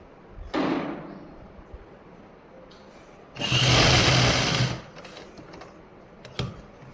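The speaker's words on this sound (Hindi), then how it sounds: "अब इस कपड़े को हम ऐसे गुम सिलाई लगा देंगे दोनों साइडों से" A sewing machine stitches a pocket into a salwar in two bursts, a short run and then a longer steady whir, with quiet handling of the fabric between.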